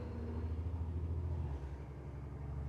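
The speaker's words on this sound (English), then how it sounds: "Let me let that car go by." A car passing outdoors, a faint, steady low rumble that swells slightly and then eases, with no voices.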